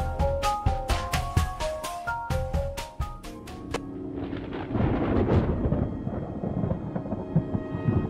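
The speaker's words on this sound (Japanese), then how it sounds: "まずい、今度は雷かもしれない。" Thunder in the video game Amnesia: Memories enters after a few seconds of plucked, ringing musical notes and grows into a loud, heavy, rolling rumble that fills the rest of the scene.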